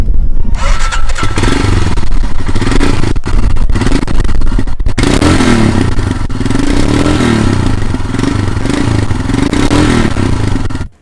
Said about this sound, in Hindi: आइए चेक करते हैं हिमालयन का जो एग्जॉस्ट नोट है